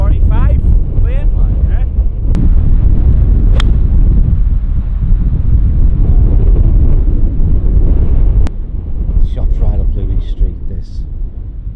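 Strong wind buffeting the microphone on a Scottish links golf course, a constant loud roar throughout, with people talking faintly underneath.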